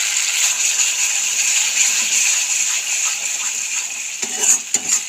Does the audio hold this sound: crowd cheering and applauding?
no